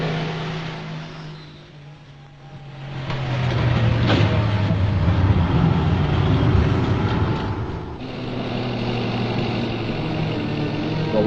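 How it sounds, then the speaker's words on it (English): Agitator trucks loaded with concrete drive at a construction site in Karenni state, Burma. A loud diesel engine rumble swells and fades as the vehicles pass, then another engine continues close by with no talking. "The agitator trucks loaded with concrete hurry to the job site."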